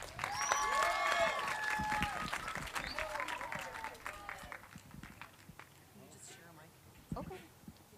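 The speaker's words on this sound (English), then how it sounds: "Give him one more round of applause." Audience applause at a choir pops concert, clapping mixed with cheers and shouts that is loudest early and then tapers to sparse claps and crowd chatter.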